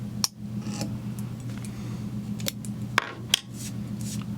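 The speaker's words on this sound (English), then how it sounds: "I'm going to go ahead and come in with a different scissor now" Scissors snip thread at a fly-tying vise for a Rat Faced McDougall fly, with a few sharp isolated clicks spaced irregularly over a low steady hum.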